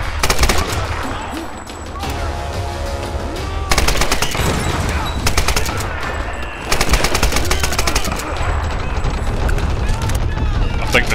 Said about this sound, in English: Difficult to get a headshot with this gun.